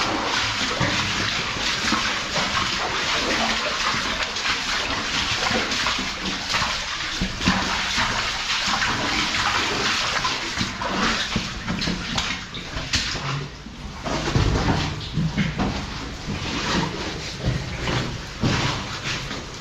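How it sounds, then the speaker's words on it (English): Water dripping and splashing steadily from the rock above inside an abandoned lead mine in Derbyshire, a dense, continuous wet patter with louder nearby splashes, with occasional footsteps and movement. "A lot more water dripping from above us"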